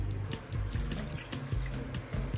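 Water streams into a pot holding two pig ears, 550 grams in all, before they are boiled for sisig; a continuous, gurgling pour with bubbling splashes, close and fairly loud.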